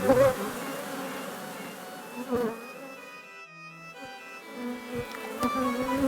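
Honeybees buzz steadily and close at a hive in an apiary, a dense droning hum with brief louder passes, no talking over it.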